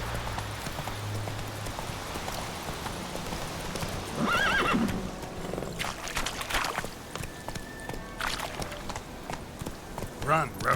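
Galloping horse in The Witcher 3 video game, with steady hoofbeats, a whinny and a neigh over the game's background sound and music.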